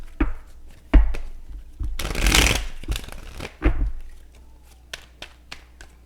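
Tarot cards are shuffled and drawn by hand close up, with sharp taps and flicks as cards hit the table and a loud riffling burst in the middle, the handling otherwise quiet between strokes.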